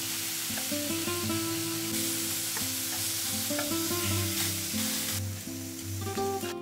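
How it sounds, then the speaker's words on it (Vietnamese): Onion, shallot and ginger roast and sizzle in a hot pan, a steady close frying hiss with occasional stirring scrapes and no talk. "Sẵn chảo thì mình cho hành tây nè, hành tím, gừng vào nướng luôn nha."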